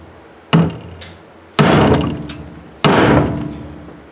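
Three heavy sledgehammer blows ring out against a steel dump truck tailgate of quarter-inch plate, each a loud metallic bang with a short decaying ring, spaced about a second apart.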